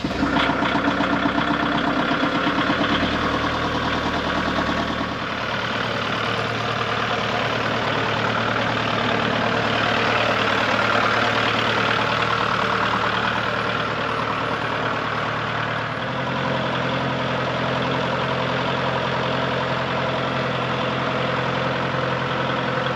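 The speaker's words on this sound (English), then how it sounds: "That means this tractor's plugs are on and it's warming itself up." A tractor engine idles on a cold day with its glow plugs on, warming itself up: a steady, loud low rumble with a constant mechanical hum that shifts slightly in pitch partway through, with no talking.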